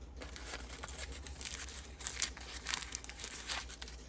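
Soft, close crinkling of a thin paper-like material, rustling continuously with a few sharper crackles, no voices.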